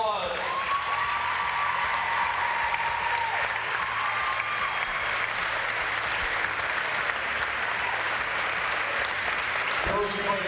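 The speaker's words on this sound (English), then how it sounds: "How about a nice round of applause?" Basketball fans in a gym give a loud, sustained round of applause for the seniors after a girls' district final, with cheering voices mixed through the clapping before it cuts off near the end.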